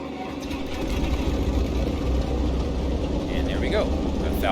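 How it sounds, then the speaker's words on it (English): A Pipistrel Panthera aircraft engine in X-Plane 11 cranks and catches, then settles into a steady, close, continuous idle hum with a buzzy, sewing-machine-like texture. "And then we'll go ahead and start the engine."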